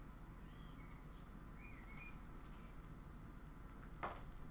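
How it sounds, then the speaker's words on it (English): Faint, distant birds chirp outside a window in a few short, scattered calls over a steady low background hum, with no one speaking. "I hear the fucking birds chirping out my window"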